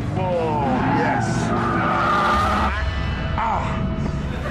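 Tires of a Nissan GT-R squeal and skid in long, wavering screeches, loud and close, over engine noise with a brief pause before another squeal.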